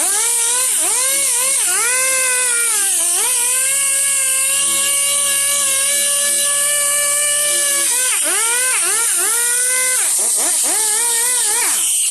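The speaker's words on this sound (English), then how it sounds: "you want to keep the RPMs on the sander kind of on the low side so you don't burn through the plastic" A power sander works a plastic Range Rover L322 headlight lens, a loud high-pitched whirring whine that holds steady, dips and rises as the speed changes, with no talking.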